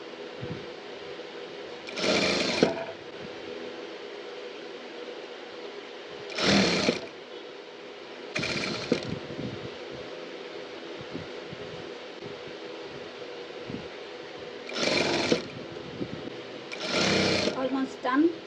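A sewing machine stitches pleats into a skirt in five short, close whirring bursts separated by quiet pauses, with speech heard in between.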